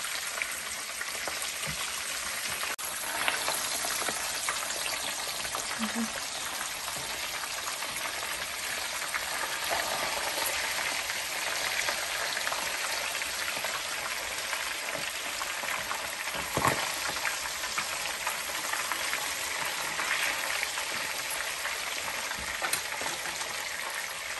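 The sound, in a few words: fish frying in oil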